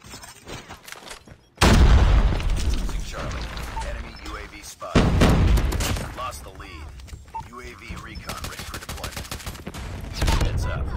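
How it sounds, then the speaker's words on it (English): A predator missile strike and gunfire in the Call of Duty Mobile video game, in a domination match at a firing range: loud, dense bursts of rapid shooting with heavy booming impacts, and an in-game voice speaking over the fire. "Predator missile awaiting orders. Predator missile inbound."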